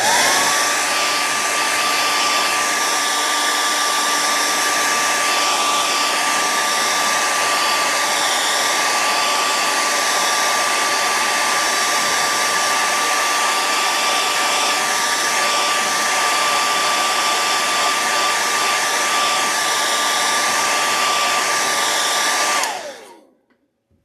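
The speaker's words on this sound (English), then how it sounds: "Let's do the hairdryer one more time." A hair dryer drying paint on a fishing lure blows continuously at a steady high whine for over twenty seconds, close and loud, then cuts off abruptly.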